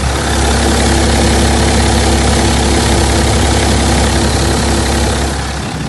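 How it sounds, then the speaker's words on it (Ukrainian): A 2016 BMW 5 Series engine idles steadily and loudly throughout with a constant low rumble and vibration, then eases off slightly at the end. "Потім роботу двигуна."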